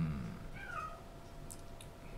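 A cat meows once near the middle, fairly quiet against a low background hum, followed by a couple of faint brief high sounds.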